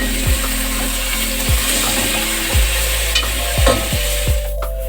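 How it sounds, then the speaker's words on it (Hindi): Tomatoes being stirred into frying onions for a biryani base, with about five distinct scraping spoon strokes spaced through a steady, close sizzle. "टमाटर डाल के उसको अच्छे से मिक्स कर दिया"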